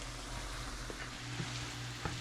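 Butter sizzling in a hot pan with port wine, a dense, close, continuous frying hiss with a few small bubbling pops throughout.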